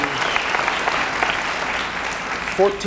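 A graduating high school class gets a round of applause at its graduation ceremony: dense, loud crowd clapping sustained throughout, with a short louder burst near the end.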